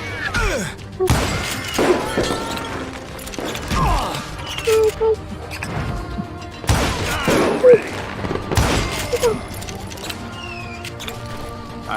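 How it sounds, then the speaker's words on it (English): A saloon gunfight in the Call of Juarez: Gunslinger video game, with loud shots and impacts spaced every second or two over a busy background of game effects. "There he is! Shoot him! Shoot him!"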